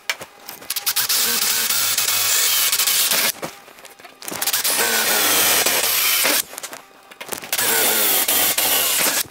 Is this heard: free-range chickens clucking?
no